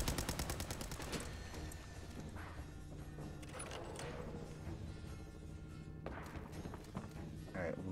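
Rapid enemy gunfire in the Fallout 4 video game, bursts of automatic shots with thuds and footsteps, fairly faint, with a voice speaking in between.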